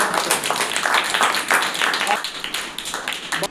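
Loud applause from a school gathering, dense clapping throughout, steady and close.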